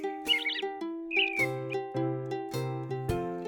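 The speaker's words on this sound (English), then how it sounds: "Robins," Short chirpy bird song of a robin, a few bright high tweets and trills standing out over a steady background of sustained musical tones.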